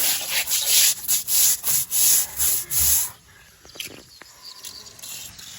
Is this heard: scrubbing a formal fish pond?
yes